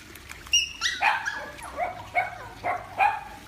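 Several dogs bark and yip in short, sharp bursts at a dog park, the barks coming close together and fairly near, with a faint whimper among them and no talk over them.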